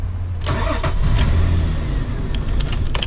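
A key turn starts the V6 engine of a Nissan Elgrand E51 4X4 automatic. It cranks with a few sharp bursts, then catches into a loud, steady, close idle.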